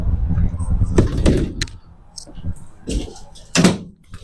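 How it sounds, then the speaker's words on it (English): The rear door of an enclosed car trailer drops with a few heavy thunks and clanks, close by, while people talk over it. "I'm gonna drop that back door now."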